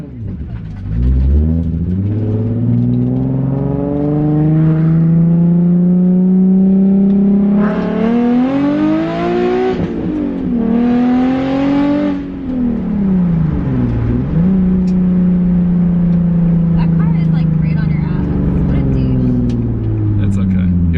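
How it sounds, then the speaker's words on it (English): A car engine roars close by, its droning pitch climbing and dipping as it approaches and passes, loud and steady throughout. "Oh, there's a car coming."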